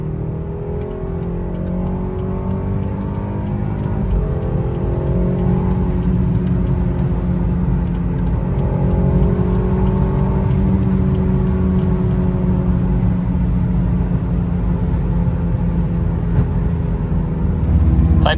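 BMW car with a B46/B48 engine accelerating hard on a highway pull, a steady loud engine note rising through the gears with road and wind noise, continuous for the whole stretch.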